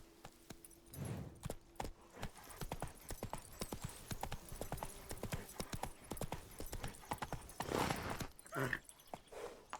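A horse's hooves clip-clop in The Witcher 3 in a quick, steady trot, loud and close, with a brief neigh and louder, busier hoof strikes toward the end.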